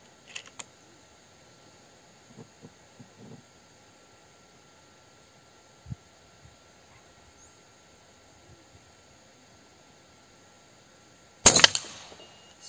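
A single sharp crack from a Cano M22 URKO III bullpup air rifle firing a slug rings out near the end, loud and close, after a long quiet stretch with faint scattered ticks.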